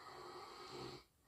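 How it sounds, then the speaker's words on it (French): Snoring in the background of a quiet room, one long rasping snore lasting about a second before it fades out, heard alone without talk. "Tous ces ronflements là derrière."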